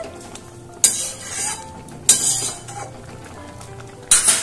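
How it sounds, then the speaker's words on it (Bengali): A spoon stirs a mixture into a curry in a pan, giving a few sharp metallic clinks against the pan with quiet scraping and faint sizzling between them. "এটা এবার তরকারির মধ্যে আমি মিশিয়ে দিচ্ছি।"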